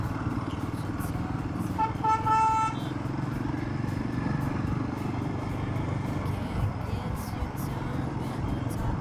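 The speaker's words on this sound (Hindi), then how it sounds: "सिर्फ ये ब्रिज पर ट्रैफिक जाम हो रखा है।" Traffic jam on a bridge, heard from a Royal Enfield Himalayan motorcycle: a steady rumble of engines and road noise with a horn honking clearly for about a second near the start, plus fainter toots later.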